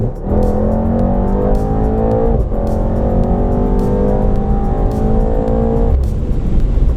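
A 670 hp race car engine roars loud and close, exhaust button engaged and wing up, revving hard through rising gears with brief shifts, steady full-throttle acceleration throughout.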